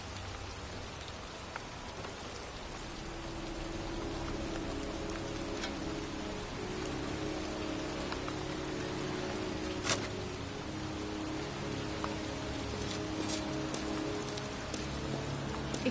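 Heavy rain pours steadily in a broad, even hiss of drops, with occasional sharper drip strikes standing out; a low hum runs underneath and no one speaks.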